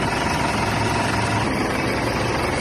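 A 2010 Mitsubishi Montero Sport engine idling after a valve cover gasket replacement and EGR cleaning, running steady and smooth with a constant close hum and no speech.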